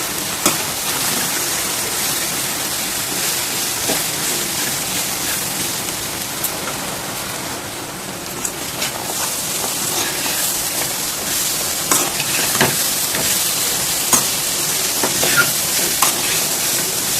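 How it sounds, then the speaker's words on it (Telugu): Chickpeas fry in a pan for prasadam offered to Goddess Durga, giving a dense, continuous sizzle and crackle like steady rain, loud and close, with no talking. "ఇవన్నీ కూడా బాగా ఒకసారి వేగనివ్వండి"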